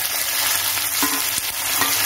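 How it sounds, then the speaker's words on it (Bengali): Potatoes tipped into a pan of fried spices for a Bengali cauliflower and koi fish curry make a loud, continuous hissing sizzle, close up and unbroken for about two seconds with no talking. "মশলাটা ভাজা হয়ে গেছে, দিয়ে দিলাম আলুটা"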